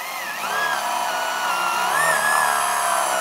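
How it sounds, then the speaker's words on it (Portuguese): An electric drill fitted with a one-inch bit bores halfway into a piece of wood for a simple wooden stool, a loud, steady whine that holds constant throughout with slight pitch wavers. "Eu vou usar aquela broca agora de uma polegada, vou furar a metade"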